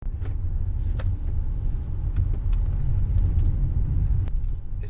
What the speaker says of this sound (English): but the way it drives, my god, this engine really pulls.